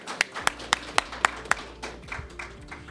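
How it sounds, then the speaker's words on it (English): At a Northern Nevada economic development event, a handful of sharp, evenly spaced claps ring out close by, about six in a steady rhythm, before trailing off into softer, scattered clapping. "Let's give our Lieutenant Governor a big round of applause"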